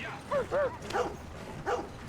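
Short high yips and barks from a puppy in the video game Red Dead Redemption 2, three or four quick bursts with gaps between them, close and clear over a low ambient background.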